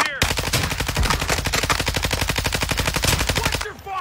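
Rapid automatic gunfire in a video game, a loud, sustained burst of evenly spaced shots lasting several seconds before cutting off.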